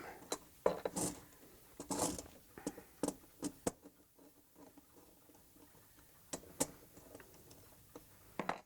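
Small wrench tightening nuts on a clock movement during restoration: faint, sparse metallic ticks and clicks in quiet workshop surroundings.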